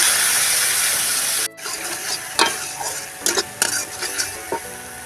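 A frying masala of ground spices with melon seed paste and nut paste sizzles loudly in a pan for Bengali okra curry as water goes in. The sizzle cuts off abruptly, then spoon scrapes and clinks follow.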